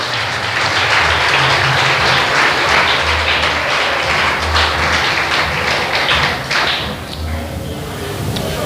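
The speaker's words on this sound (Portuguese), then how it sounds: "Você pode aplaudir o Senhor Jesus por isso?" Loud congregation applause at a church conference, thick continuous clapping with some low thumps, thinning slightly toward the end.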